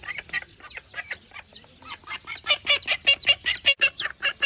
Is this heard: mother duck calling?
yes